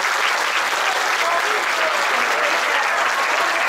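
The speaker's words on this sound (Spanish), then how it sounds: "Un aplauso a Jesús del Rescate." A crowd applauds at a Catholic religious celebration for Jesús del Rescate, dense steady clapping that continues evenly without a break.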